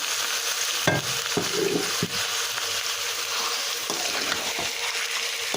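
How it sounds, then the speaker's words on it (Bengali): Boiled vegetables, including cauliflower, are stirred into fried onions in a pan, with close, repeated scraping and shuffling strokes over a continuous sizzle of hot oil. "এখন একটু ভালোভাবে মিশিয়ে দেবো"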